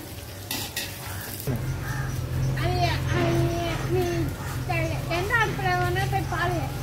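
Onions frying in a pan for mutton dum biryani, a loud, close sizzle with scraping stirs, under a voice talking over it.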